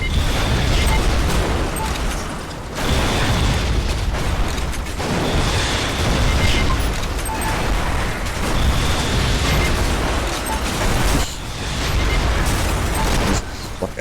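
Explosions in the game Red Faction: Guerrilla on PS3, a dense, loud continuous barrage of booms and rumbling blasts with brief dips, mixed with other game noise.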